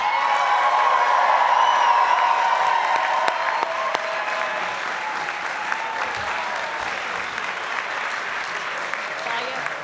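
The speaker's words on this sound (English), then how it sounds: "Please join us in applauding the graduates." Audience at a Columbia Business School EMBA recognition ceremony applauding the graduates, a sustained, even roar of many hands clapping in a large hall, with faint cheering and voices underneath.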